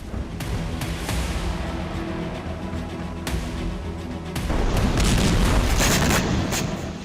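Repeated blasts and rumbling booms from rockets striking the city of Haifa, Israel, as Iron Dome interception fails, with sharp bursts at intervals and a heavier continuous roar building toward the end.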